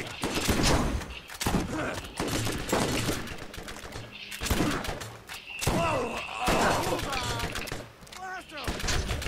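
Bursts of video game gunfire from Borderlands crackle in rapid volleys with heavy thuds and impacts, dense and loud throughout, with a voice speaking over the shooting.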